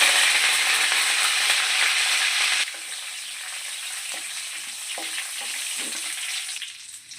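Cumin, chana dal and curry leaves hit hot tempering oil for a drumstick-leaf chutney. A loud, bright sizzle bursts at first, then drops to a softer steady frying with light stirring clicks. No one speaks.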